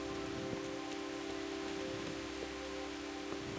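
Rain pours in the medieval game Kingdom Come: Deliverance, a constant broad hiss with scattered individual drop ticks and spatters popping out at intervals, heard alone without speech.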